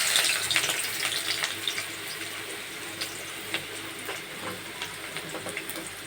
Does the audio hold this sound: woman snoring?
no